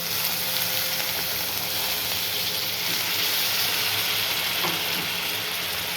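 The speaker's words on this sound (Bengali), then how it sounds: "এই যে সামান্য জল দিলাম, দেখছো কপ কপ কপ কপ করে ফুটে উঠেছে" Water splashed into a pan of hot Bengali fish curry sets off a steady, loud sizzle and rolling bubbling that carries on evenly throughout, with no voices.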